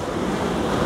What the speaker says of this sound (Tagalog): napaka lakas nung alon.